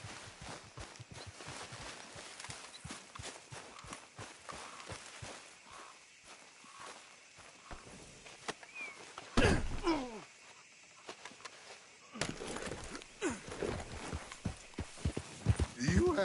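Horse hooves clip-clop in a steady walking rhythm in Red Dead Redemption 2, with a louder burst of movement midway, a snort, and faint ambient game sounds.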